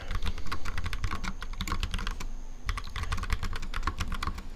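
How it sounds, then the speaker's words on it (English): Fast, close computer keyboard typing, a steady clatter of keystrokes with one brief pause partway through. "I have a feeling that's really loud typing,"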